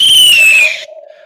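A person imitates a referee's final whistle with a long, loud, piercing whistled tone that slides slightly downward, then breaks off abruptly, leaving a faint trailing hum.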